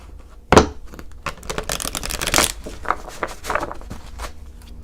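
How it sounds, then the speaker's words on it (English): A deck of cards is riffled and shuffled close up, a quick burst of crisp flutters and papery slaps, with no one speaking. "One more quick shuffle."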